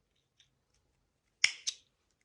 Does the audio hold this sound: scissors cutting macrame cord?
yes